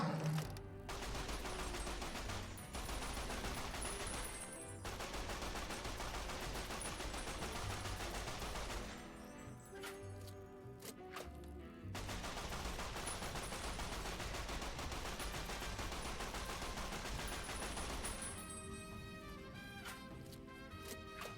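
Rapid bursts of gunfire ring out in Fallout: New Vegas as bullets strike an enemy, dense and loud over layered game music and effects, with brief lulls between sustained volleys.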